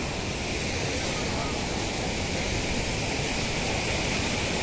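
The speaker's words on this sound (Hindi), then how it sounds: "ये देख सकते हो झरना" A waterfall pours in a steady, dense rushing roar that stays even throughout, loud and close, with a voice faintly under the noise.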